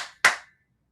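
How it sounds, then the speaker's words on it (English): One crisp, close hand clap, loud and sudden, followed by silence. "It is local custom to announce your presence by clapping your hands."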